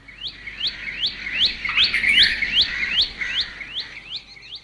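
A red-vented bulbul gives loud, repeated rising chirping calls, about a dozen notes in a steady rhythm, heard close and clear outdoors over faint background noise.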